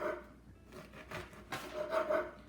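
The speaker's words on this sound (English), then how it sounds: "Okay, I'm taking a Italian loaf of bread, and I'm slicing it" A knife saws through an Italian loaf, cutting it into cubes, producing soft, faint rasping strokes with a few quick scrapes and no talking.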